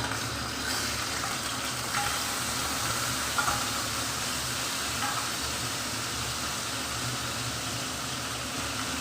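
Black cumin, chopped onion and two green chillies sizzle steadily in leftover fish-frying oil, a continuous moderate hiss with a few faint clicks and no talking.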